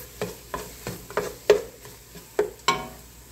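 Flour and butter cooking together in a pot for creamy potato soup, a soft sizzle under a run of regular spoon strokes scraping and stirring close by, roughly eight distinct scrapes.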